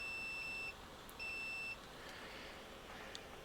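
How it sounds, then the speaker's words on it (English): Two steady electronic beeps from a multimeter in continuity test mode, each lasting about half a second with a short gap between, faint against a quiet background hiss. "when I press it against one and then the other, it should beep"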